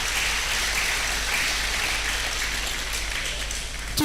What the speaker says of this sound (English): Please clap for UNIBEN.